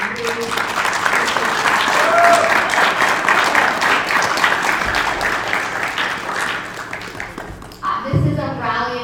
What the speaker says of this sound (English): If you can please give yourself a round of applause.